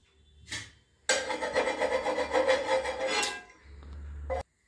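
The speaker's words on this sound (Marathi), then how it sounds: "आता हे सगळं मिक्स करून मळून घेऊया" Fenugreek paratha dough is mixed and kneaded by hand, giving a steady, close, rough rubbing sound for about two seconds, framed by brief, softer scuffs.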